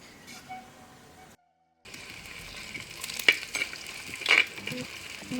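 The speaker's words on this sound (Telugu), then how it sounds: "ఇప్పుడు జీడిపప్పు వేసుకోవాలి." Cashews tossed into hot oil with browned onions in a pan for vegetable biryani, giving a steady close sizzle with stirring scrapes and bursts of crackle after a brief silent gap.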